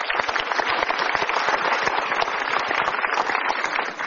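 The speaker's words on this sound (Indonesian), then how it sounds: "Kita berikan tepuk tangan dulu." An audience claps steadily and enthusiastically, a dense, even burst of applause sustained throughout without voices standing out.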